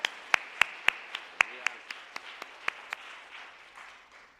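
A church congregation at a Taiwanese-language dedication service claps in a short burst of sharp, separate hand claps that thin out and fade within a few seconds.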